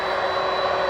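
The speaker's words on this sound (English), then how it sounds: "Spirit Airlines Flight 176, an Airbus A320neo from San Juan, Puerto Rico" A Spirit Airlines Airbus A320neo jet arriving at O'Hare airport gives a steady, broad engine roar with a whining edge, sustained at even loudness throughout.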